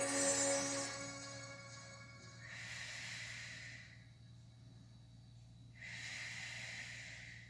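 Slow, deep breathing during a yoga session, with two long airy exhales about three seconds apart, close and soft over a quiet low hum, following a brief fading tone at the start.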